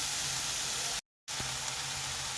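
Tomatoes frying in a pan give a steady, broadband sizzle that runs throughout, broken by a brief moment of silence, with a faint tap heard just after the sound resumes.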